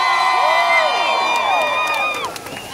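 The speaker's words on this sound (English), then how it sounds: "Let me hear you scream a little bit," A school crowd at a back-to-school rally screams and cheers, with high whoops and shrieks layered over a dense roar, loud and close throughout the short burst.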